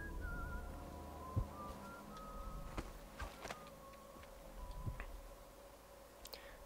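A game character in Dishonored whistles a faint tune, thin wavering notes drifting over a low ambient hum with scattered soft clicks and taps.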